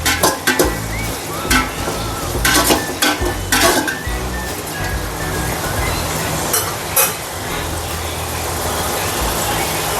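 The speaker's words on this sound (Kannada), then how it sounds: "ತುಂಬ ಚೆನ್ನಾಗಿ ಫ್ರೈ ಮಾಡ್ಕೋಬೇಕು." Food frying in a pan in a home kitchen: a steady broadband sizzle runs throughout, broken by a few sharp utensil clinks and stirring scrapes early on. There is no talk.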